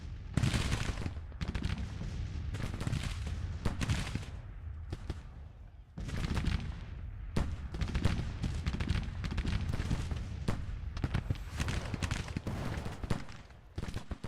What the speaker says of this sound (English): Get a couple more canister shots in there before you go, please.